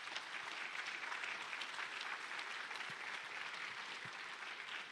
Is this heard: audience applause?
yes